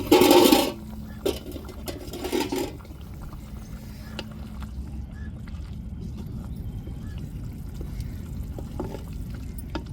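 Water is poured into a cooking pot of mushroom curry in two short splashing bursts, then a steady low bubbling simmer continues.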